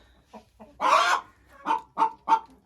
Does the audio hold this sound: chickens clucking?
yes